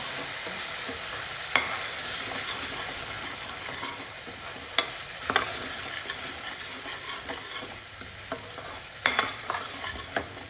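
Masala paste for a cauliflower sabzi sizzles softly in a kadai over a slow flame, while a spoon stirs it with scattered scrapes and sharp clicks against the metal. The sound is close and fairly quiet, with no talking.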